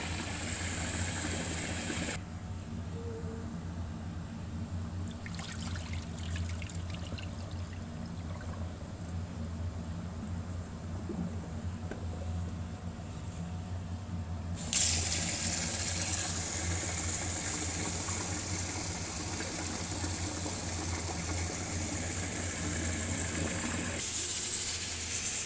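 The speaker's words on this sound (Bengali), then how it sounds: "চালটা ভালো করে ধুয়ে নিচ্ছি।" Rice is rinsed with running water, a steady pouring and trickling wash with a low hum underneath, changing character partway through as the flow shifts.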